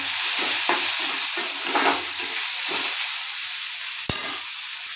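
Dried red chillies and spices fry in a pan with a loud, continuous sizzling hiss, broken by a few soft stirring scrapes and one sharp clack near the end.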